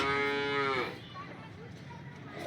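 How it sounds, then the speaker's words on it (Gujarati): A freshly calved Aria cow lets out one long, loud moo up close, then it fades into quiet farmyard background. "એક આરિયા ગાય છે"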